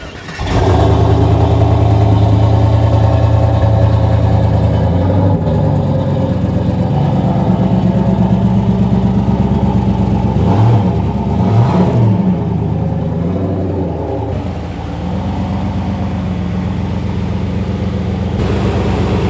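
The engine of a custom-built auction car runs steadily close by, with its electric engine fan whirring on continuously, a few rev surges rising and falling midway, then a steady idle.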